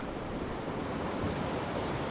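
Steady wash of sea surf on an empty beach on a cool day, a continuous roar of fairly calm waves with some wind noise and no voices.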